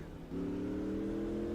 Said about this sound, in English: actually this car doesn't sound too bad